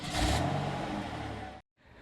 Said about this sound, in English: this exhaust note is quite impressive